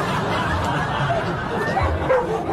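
Dogs barking in a 1980 French television studio. Scattered yips and barks sit under crowd chatter, laughter and voices.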